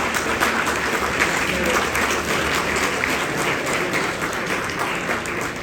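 An audience at an evening speech event in Adelaide breaks into sustained, loud applause with some cheering, a dense continuous clapping that holds steady throughout.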